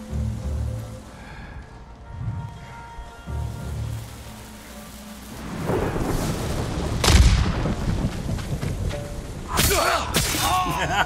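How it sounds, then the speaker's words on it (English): In the Ghost of Tsushima video game, one heavy, booming explosion erupts midway through a steady rain-like hiss, followed by scattered thuds and crackling as the rumble fades. "Did none of them hear the giant explosion?"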